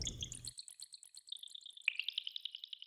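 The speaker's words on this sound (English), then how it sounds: "just tiny little drips in a cave or something" Tiny water drips synthesized in the Vital synthesizer plink in quick, high, tonal bursts, a brief low tone first, then a steady run of drops.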